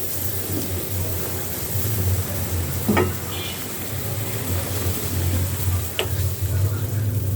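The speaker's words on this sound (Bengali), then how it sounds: "গুড়ের পানিটাতে বলক আসছে" Jaggery water with white cardamom, cinnamon and bay leaves simmering in a pan, giving a steady bubbling sizzle with a low rumble and two brief clinks of a spoon against the pan.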